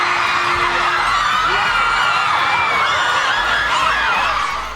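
A crowd of fans screams and whoops continuously while waiting for B2K to come out, a loud, dense wall of high-pitched cheering.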